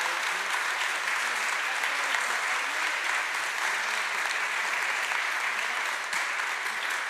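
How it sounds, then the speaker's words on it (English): A large audience claps steadily, dense continuous applause filling the room without pause. "please join me in a warm round of applause for our panelists"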